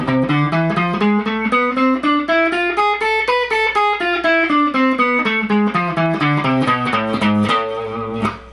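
An electric guitar slowly plays the A harmonic minor scale up and back down, each note distinct, sustained and distorted, close and loud with no talking.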